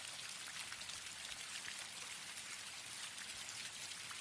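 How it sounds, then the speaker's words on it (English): Rain falling, a soft steady hiss of drops and trickling water, faint and constant throughout with no voices. "I love the sound of rain."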